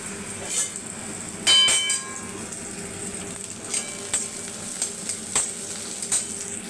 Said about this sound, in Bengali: এই দেখো কড়াই আমি তেল দিয়ে দিয়েছি, এবার আমি এতে দেব পেঁয়াজ কুচি।